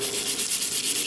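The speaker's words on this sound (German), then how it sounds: "Mit der Hand schleift Peter Ferger unter Wasser die Kanten so rund wie möglich. Dazu benutzt er feines Schleifpapier mit 800er Körnung." Fine 800-grit sandpaper is rubbed by hand over the edges of a leg prosthesis underwater, making steady, rhythmic rasping strokes at close range with no voices.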